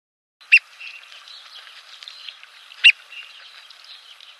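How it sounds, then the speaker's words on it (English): Two sharp, bright bird calls about two seconds apart, played from the Dinosaur Train video game over a faint chirping background. "Click on the bird call to attract a bird."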